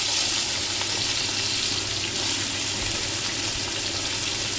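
Green chillies and vegetables frying in hot oil in a home kitchen, a steady close hiss of sizzling that holds without break and with no voices over it.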